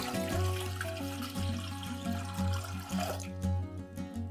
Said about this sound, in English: Pour half a liter of water into a kettle.